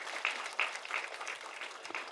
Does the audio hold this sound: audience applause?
yes